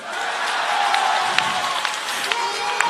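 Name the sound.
crowd applauding at a rally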